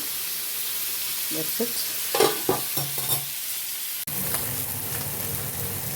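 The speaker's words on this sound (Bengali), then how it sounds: "এবার বোম্বিল ফ্রাই করতে নিয়েছি" Bombil (Bombay duck) fish frying in a pan, a soft steady sizzle throughout, with a few clattering stirs and scrapes partway through, then a duller hiss after a sharp knock.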